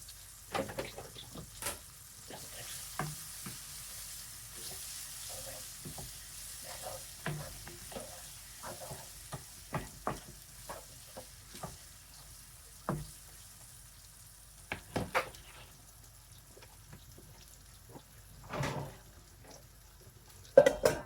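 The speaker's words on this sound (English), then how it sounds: "So in now is 1 large chopped onion." A large chopped onion frying with spices in a curry pot: a low, soft sizzle under repeated scraping stir strokes and occasional clinks of a spoon against the pot, close and intermittent.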